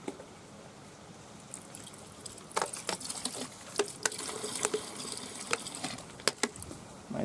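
Homemade waterproofing liquid for tents and tarps poured from a small can, a soft liquid trickle with patters and drips building to close splashy spatters, no talking.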